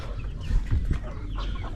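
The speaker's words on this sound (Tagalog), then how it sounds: "Bali yung mga sisiw dito sa brooder pen, ayan, hinalo ko na doon," Young Filipino native Noypi chickens fill a brooder pen with close, irregular clucks and soft chirps. The calls come as a few short bursts over a low background hum.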